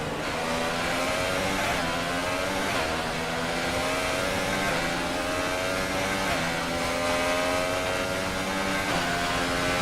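A Williams Formula 1 car screams around the Chinese Grand Prix circuit in the racing game F1 2018, a loud, continuous high-revving engine note climbing and dropping through gear changes without a break.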